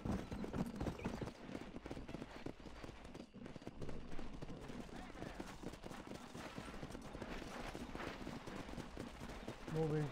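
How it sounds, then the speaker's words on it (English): Horse hooves clip-clop steadily in a Western video game while a rider herds cattle, with distant gunfire-like bursts in the game mix and faint voices over the trotting. "Control that horse,"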